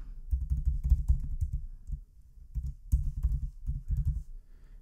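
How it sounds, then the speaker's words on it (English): Computer keyboard typing while entering R code, a steady run of soft, close keystroke clicks in quick bursts with brief pauses, alone without speech. "Let's go ahead and finish typing this out."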